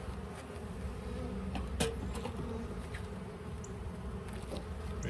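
Steady, low hum of many honey bees buzzing around an open hive during a hive inspection, a continuous drone with occasional louder passes of individual bees close by.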